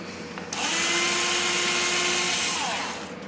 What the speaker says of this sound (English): in the middle of this hole here, we're going to drill through with a 1/16 inch bit